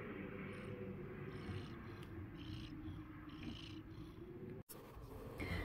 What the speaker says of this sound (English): You hear these purrs?